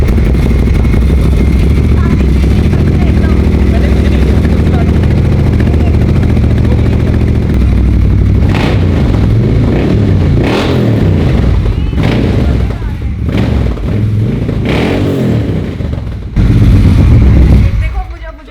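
A superbike engine revs hard under throttle, loud and close, with a continuous roar and several sharp rising bursts toward the end; no clear speech over it.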